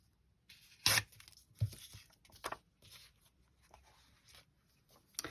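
Paper cut down for a journal master board: soft, close crinkles and short papery snips and scrapes in scattered bursts against a quiet room.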